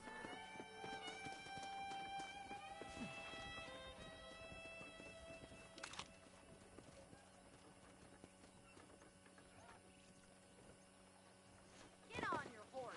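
Horse hooves clip-clop at a steady walking pace while riding in the Western video game Red Dead Redemption, set against background music and game ambience, with a brief louder burst near the end.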